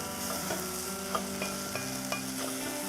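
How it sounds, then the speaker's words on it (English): A spoon stirs food frying in a pan for a Tex-Mex dish with garlic. Steady sizzling runs throughout, with several soft scraping stirs and light clinks of the spoon against the pan. No one speaks. "So let's give this a quick stir again."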